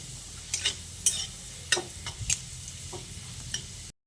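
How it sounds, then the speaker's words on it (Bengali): Chopped garlic frying in a pan for a susni shak dish: a soft sizzle under several sharp, scraping stirs at uneven intervals, close and clear, ending abruptly. "রসুন কুচিটা দিয়ে একটু বাদামি করে ভেজে নিচ্ছি"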